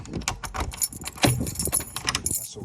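A large bunch of keys jangles and clinks continuously, close up, with faint road traffic behind, during a locksmith job.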